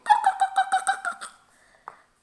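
A rapid run of about nine clucks from a fowl, fading out, then one short cluck after a pause; fairly close and clear.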